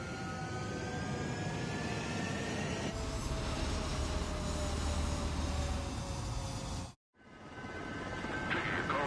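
Fighter jets taking off in the video game Ace Combat 7, a loud, steady engine roar rising in pitch that cuts off abruptly, then returns after a brief silence.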